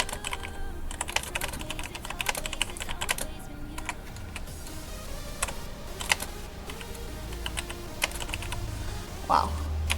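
Rapid irregular clicking of typing on a computer keyboard, bursts of keystrokes continuing for several seconds with a faint background hum and no speech.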